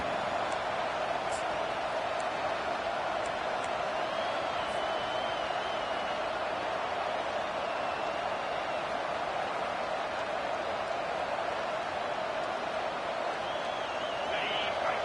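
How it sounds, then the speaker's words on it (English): A large stadium crowd at an LSU football game roars continuously at a steady level, a dense wall of distant cheering and noise with no breaks. "Listen to this crowd just shaking the girders of this place"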